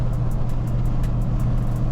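A Saleen Mustang's engine with a 10-speed transmission hums steadily at close range, a low continuous drone with no clear revving or gear changes.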